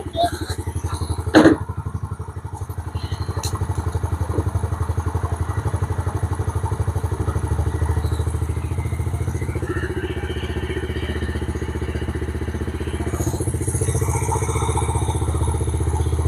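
A Yamaha TTR50 dirt bike engine idles steadily and close by, a low, even putter with a few clatters and a brief thump near the start, the idle sitting slightly low once warmed up.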